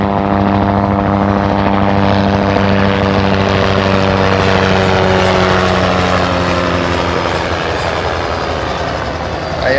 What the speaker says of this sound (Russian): сейчас пролетит вертолет